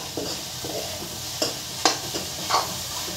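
Pork chow mein sizzles softly in a pan while it is stirred, with a few clear scraping strokes over the steady frying hiss.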